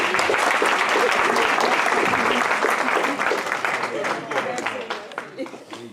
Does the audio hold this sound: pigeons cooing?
no